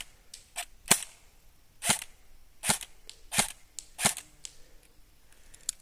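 An airsoft M4 gas blowback rifle fires a series of sharp, snappy shots, roughly seven spaced reports over several seconds, crisp and fairly close outdoors.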